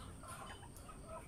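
Black Australorp chickens cluck softly in a coop, a faint cluster of short calls over a low background murmur.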